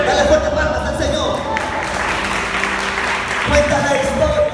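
A church congregation claps for the Lord during a healing service, a steady burst of rhythmic group clapping, near and moderately loud, with a voice speaking over it.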